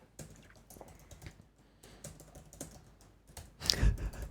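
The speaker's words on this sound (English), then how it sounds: "I can't type anymore." Quick bursts of keystrokes on a computer keyboard, with irregular clusters of clicks and short pauses between them and a louder clattering flurry near the end, close and clear with no talk.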